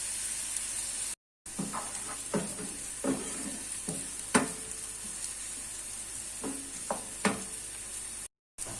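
Onions sauté in a pan, a continuous close sizzle broken by sharp scrapes and clicks from stirring, with two brief silent gaps.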